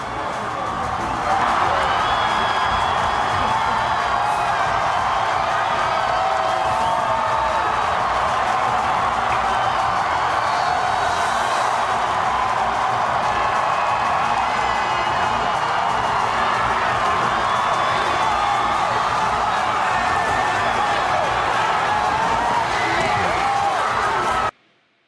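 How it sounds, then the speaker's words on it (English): A huge outdoor crowd at Grant Park in Chicago on an election night, cheering, whooping and roaring in a loud, sustained wash of voices that holds steady throughout before cutting off abruptly. "Listen to the crowd at Grant Park in Chicago."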